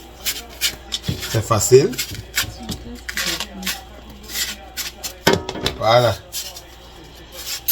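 A knife cuts into and peels a watermelon, producing scraping, rubbing strokes of varying loudness at close range, with someone speaking French over the cutting.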